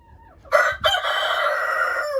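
A rooster crows loudly and close by in one long, drawn-out call, with a brief break near the start, among a flock of chickens kept for a meat-raising project.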